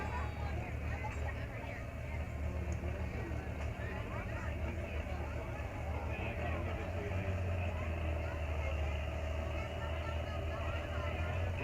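A loud 1979 tractor engine roars steadily at a tractor pull, a continuous heavy low rumble throughout with crowd babble faintly underneath.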